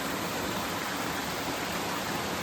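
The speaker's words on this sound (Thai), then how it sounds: "น้ำตกเล็กๆ ตลอดทางเลยครับผม" Small waterfalls along a mountain trail in Khao Luang National Park, Nakhon Si Thammarat, give a steady, even rush of falling water, a constant broadband hiss with no voices over it.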